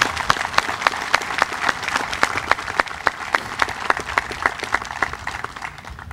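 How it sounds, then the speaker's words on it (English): At a Memorial Day commemoration, an audience applauds families who lost members in service, scattered but steady clapping with distinct individual claps standing out, moderately loud and continuing for several seconds. "Let's give them a round of applause."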